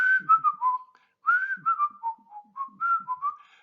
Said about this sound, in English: I was trying to whistle. I think I was trying to do the Andy Griffith tune.